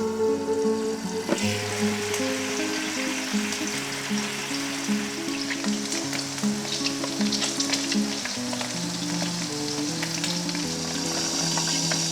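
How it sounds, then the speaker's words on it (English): Tomatoes sizzle and crackle loudly in hot olive oil, a steady frying hiss with faint stirring sounds and no talking. "pour your tomatoes into hot olive oil"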